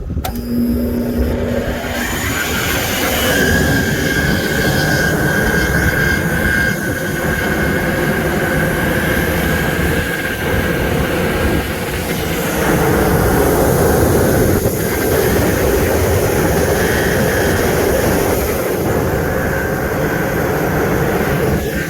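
A 7.5 horsepower farm fan runs steadily, a loud continuous broadband roar with a faint tonal whine on top, holding level for the whole stretch.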